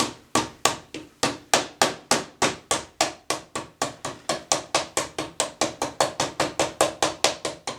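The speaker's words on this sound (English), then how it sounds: "gently tap this in place." A part is tapped into place during a Super Spacer refurbishment: a steady series of about thirty close, sharp taps at a regular, fairly quick rhythm, each decaying quickly.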